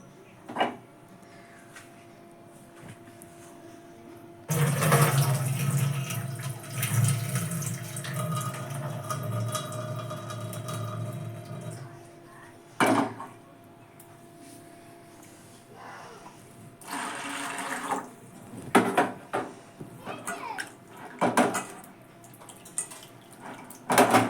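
Soaked sago pearls being rinsed in a bowl under running tap water, a steady splashing wash of several seconds with sloshing, then quieter handling, drips and clinks against the container.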